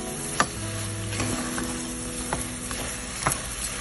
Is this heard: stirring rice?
yes